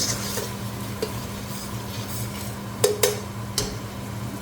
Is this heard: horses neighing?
no